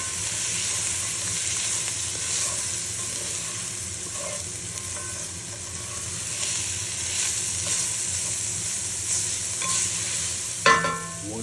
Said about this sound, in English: next add 10 cloves of minced garlic. We're going to let that cook until it just becomes fragrant.